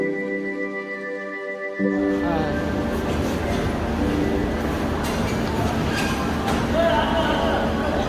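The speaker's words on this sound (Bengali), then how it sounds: "এই হচ্ছে আমাদের ট্রেন চলে এসছে।" A train pulls into a station in Kolkata, beginning with a sustained horn-like tonal blast that gives way to a continuous loud rumble and rolling clatter close by, with station noise around.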